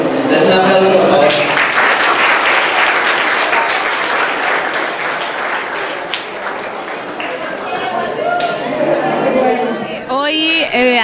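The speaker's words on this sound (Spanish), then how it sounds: "Entonces, un aplauso, por favor." Applause at a school cooperative celebration, a crowd clapping loudly and continuously close by, mixed with lively chatter and voices talking over it, then thinning out as speech takes over near the end.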